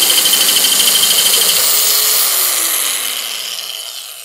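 A nibbler cuts through 3 mm aluminium sheet metal with a loud, dense, high-pitched buzzing whine. It runs steadily at close range and then slowly fades and slows toward the end, with no talk over it.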